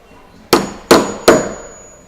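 Three sharp hammer blows strike a chisel cutting along a door edge during a door fitting, each a crisp ringing knock with a short decaying tail, evenly spaced and close.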